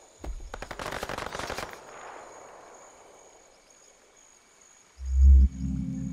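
Rapid automatic gunfire in the Predator: Hunting Grounds video game, a loud burst of closely spaced shots lasting over a second, fading into a reverberant tail, then a heavy low boom near the end.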